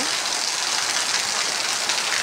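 Heavy rain drums on a tin roof in a dense, steady, close roar that never lets up, with no voices over it.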